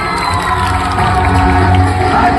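A crowd cheers and claps loudly at a Paithani game during a village festival in Tendoli, with dense, steady shouting and applause running throughout.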